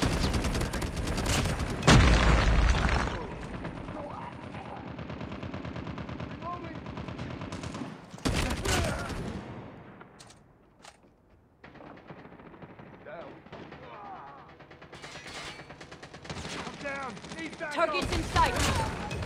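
Call of Duty Mobile gunfire rattles in loud, sustained automatic bursts with heavier shots and short lulls, while voices call out over the fighting.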